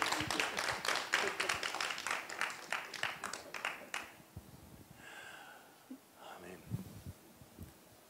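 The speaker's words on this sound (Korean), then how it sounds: "박수로 좀 환영합니다" Applause welcoming guests at a church service in Seoul, a burst of dense clapping in the first half that fades out, followed by quieter talk.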